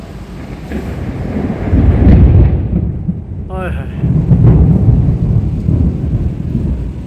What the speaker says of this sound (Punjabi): ਬਿਜਲੀ ਕੜਕ ਰਹੀ ਆ ਬਹੁਤ ਜ਼ਿਆਦਾ